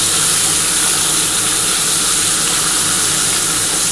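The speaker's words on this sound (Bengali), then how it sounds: "এই তেলের মধ্যে একটা শুকনো লঙ্কা আর কালো জিরে ফোড়ন দেবো" Dry red chili and black cumin seeds tempering in hot oil, giving a steady, loud, close hiss and sizzle that runs without a break and with no voices.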